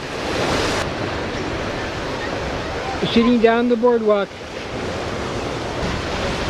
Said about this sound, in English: Waves coming in over here.